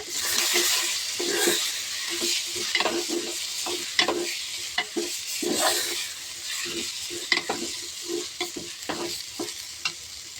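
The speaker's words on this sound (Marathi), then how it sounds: "वाटलेले शेंगदाणे, ओलं खोबरं आपण तेलावर भाजून घेऊ. चांगलं तेलावर परतून घेऊया." Ground peanuts and grated fresh coconut roasting in oil in a pan, with a steady close sizzle broken by repeated scraping stirs, no talking.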